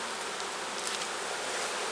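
Honeybees buzz at an open hive with four or five frames of bees from a walk-away split, a dense, close, unbroken hum that holds steady throughout without speech.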